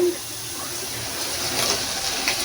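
Water gushes from a tap into a vessel holding washed brinjals in a home kitchen, a short, close, splashing pour.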